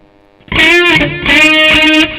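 A loud electric guitar with heavy distortion from a Mooer GE100 effects unit plays two sustained, buzzing chords after a brief quiet start.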